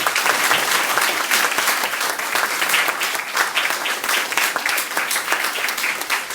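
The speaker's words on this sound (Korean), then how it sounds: "다시 한번 큰 박수 부탁드립니다." Large concert audience breaks into sustained, loud applause, a dense continuous wash of many hands clapping at steady intensity throughout with no talking over it.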